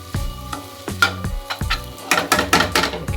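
Masala pasta frying in a pan while a spoon stirs it, with sharp scraping clacks against the metal at irregular intervals over a steady close sizzle that grows busier toward the end.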